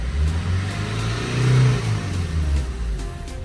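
A Maruti Dzire with a fault that makes it bog down above 2000 rpm is revved up close, giving a loud steady engine drone that swells, then falls back and rises again, straining without climbing freely.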